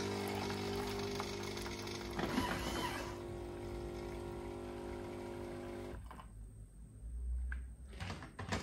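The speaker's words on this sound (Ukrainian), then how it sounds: "після кожного готування ми, звичайно, опускаємо трубочку з бідончика і продуваємо нашу кавоварочку." A 2021 Melitta Passione coffee machine purging its steam wand after frothing: a loud, steady rushing hiss of steam with a mechanical hum underneath, continuing for several seconds before dropping off into quieter sputters.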